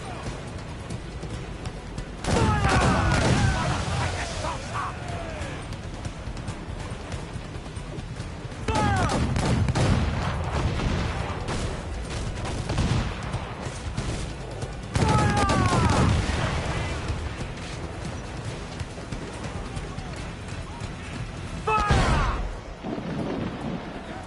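Ship cannons firing in a naval battle in Assassin's Creed Black Flag: three heavy booming volleys of rolling blasts, roughly six seconds apart, each followed by a lingering rumble, with shouted crew voices in between.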